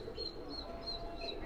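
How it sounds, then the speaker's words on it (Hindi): Fighting pigeons in a large flock give soft, low cooing and rustling at close range under steady background noise, with faint chirps above. "ये देखिए, लड़ चुके हैं कबूतर इस समय।"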